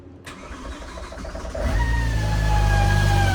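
A BMW E60 M5 under rebuild cranks briefly, then catches and settles into a loud, steady idle with a close, rising engine drone.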